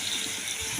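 A splash of water poured from a rinsed bowl into a pan of spiced cottage cheese curry, a brief close gushing trickle with no voices.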